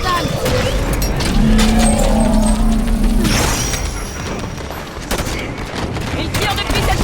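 Gunfire in the Halo 5: Guardians campaign, a dense spray of game shots and booms with a mechanical rattle that runs steadily across the clip, while voices speak over the combat.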